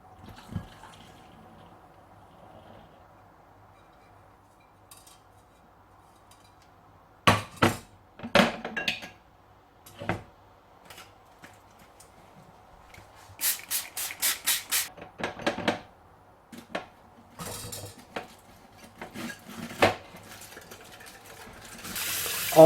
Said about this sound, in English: Now we'll pour over the wort.